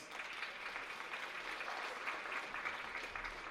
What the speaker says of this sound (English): thanks so much for the round of applause